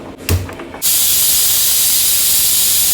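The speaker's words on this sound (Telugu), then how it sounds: "3 లేదా 4 విజిల్లు రానిచ్చుకోవాలి." A pressure cooker of soaked sago on a stove lets out its whistle, a loud, steady hiss of escaping steam that bursts in after a short clatter and runs on continuously to the end.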